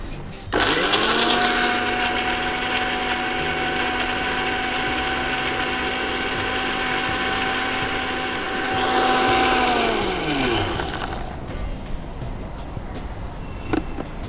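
A Phillips grinder whirs steadily as it blends a marinade of coconut oil and other ingredients, a loud continuous motor drone with a rising pitch near the end before it winds down and stops, leaving quieter room sound.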